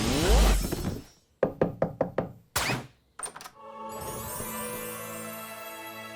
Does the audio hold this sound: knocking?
yes